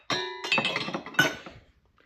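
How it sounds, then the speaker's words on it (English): Glass clinking and knocking while pouring a large glass of water, one ringing chime followed by a quick run of clattering taps, close and fairly loud, fading out after about a second. "Water, large glass of water."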